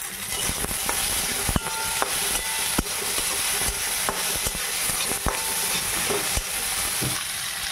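Chopped tomatoes fry in a pan for handi chicken on a gas stove, giving a steady close sizzle broken by scattered sharp clinks and scrapes of a spoon stirring.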